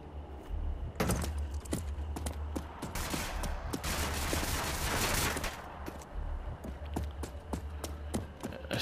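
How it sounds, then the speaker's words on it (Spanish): Gunfire in the video game Rage 2 rattles in quick bursts, sharp repeated shots and dense volleys with brief gaps, loud and close, with no talking. "¿Eso ha sido disparos?"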